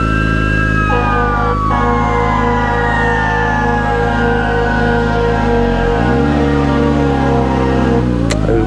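A police car siren wails loud and continuous during a traffic stop, its pitch sweeping steadily, with a steady engine drone underneath and no talking.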